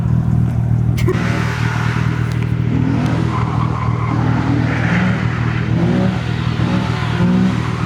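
A 1994 Toyota Chaser's engine roars loud and close, revving throughout with a dense, sustained exhaust note.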